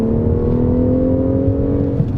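A BMW M performance car's engine pulls hard under full throttle, a loud, sustained droning roar with a steadily rising tone heard from inside the cabin, with no talking.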